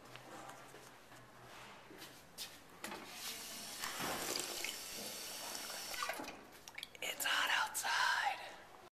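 Faint running water from a tap at home, under whispered talk, with a louder splashing burst near the end.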